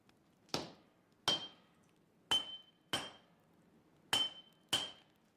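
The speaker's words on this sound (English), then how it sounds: "Heat from the forge and constant hammering flatten the pieces into the building blocks of the new weapon under Gassan's watchful and highly trained e" Steel for a katana is hammered at a forge in six sharp, ringing strikes, each with a bright metallic tail, falling in uneven pairs over a quiet background.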